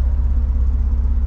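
Toyota Camry XSE V6 fitted with a MagnaFlow exhaust sits at idle, a steady low rumble with a soft pulsing beat, close and even throughout with no voices.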